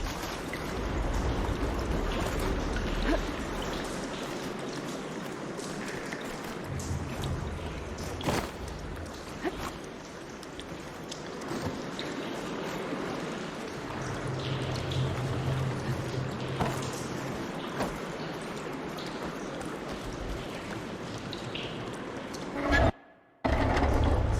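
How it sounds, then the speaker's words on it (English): Continuous water flows and trickles through a room in Horizon Forbidden West, a steady soft wash with occasional louder splashes, ending in a brief cut. "Aloy, I can hear water in the room again."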